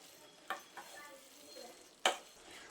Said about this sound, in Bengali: আবারও আমি নেড়ে চেড়ে সব কিছু ভালোভাবে মিশিয়ে নিলাম।